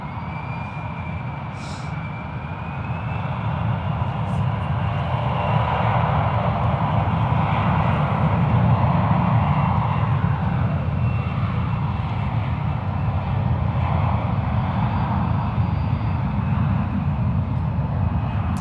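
A Virgin airliner taxis and turns toward the departure runway at San Francisco International Airport, its jet engines giving a loud, steady roar that swells a little and then holds.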